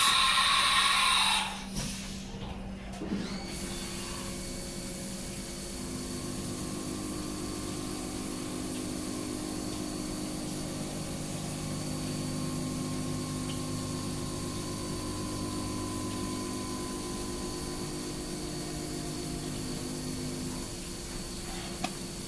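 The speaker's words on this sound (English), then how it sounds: "chamfer all the different holes on the outside up there with our favorite spot drill" A CNC machine runs a spot drill to chamfer holes around a Geneva drive wheel, giving a steady, continuous mechanical whir and hum with a few faint tonal lines. It begins with a brief burst of noise, then holds an even drone.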